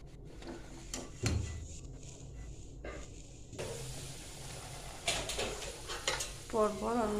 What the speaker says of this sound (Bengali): আমি এবার পটাপট সব কচুরিগুলো ভেজে নেব।